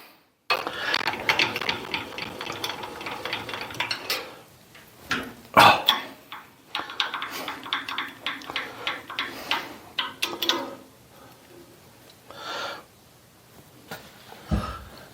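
A milling cutter machines a steel steady rest base with an irregular, clattering chatter. Loud bursts and rattling passes start and stop unevenly, with a few sharp clanks between them.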